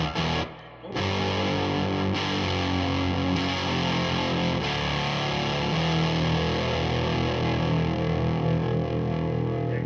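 An electric guitar played through a Zvex Fuzz Factory fuzz pedal, sustained buzzy chords ringing out with a thick, saturated tone, loud and alone.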